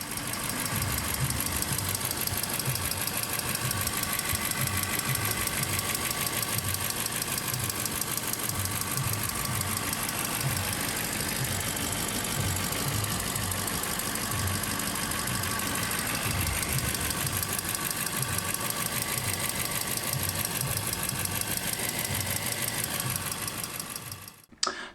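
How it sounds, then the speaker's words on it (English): Aston Martin V8 engine idling with a steady, cyclic valve tick from excessive 0.7mm valve clearance, a continuous close-up rhythmic ticking over the engine hum until it cuts off at the end. "as you can hear in this clip, the ticking sound is cyclic, it's repetitive, it's always there"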